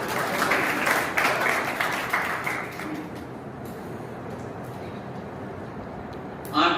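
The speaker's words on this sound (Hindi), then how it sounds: "तालियां बजाइएगा।" Applause from an audience in a hall at a Women's Day event, clapping that is fairly loud at first, then thins and fades into a quieter room hum, with a brief burst of sound at the very end.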